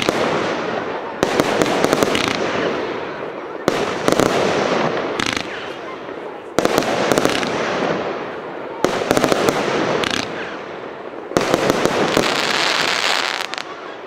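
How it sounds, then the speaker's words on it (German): Pyro Specials Webfahrer 36-shot fan firework battery firing outdoors at a New Year's product demonstration, a loud run of rapid crackling bursts in five volleys separated by short pauses, with faint voices in the background. "Der Webfahrer, 36 Schuss Fächerbatterie von Pyro Specials"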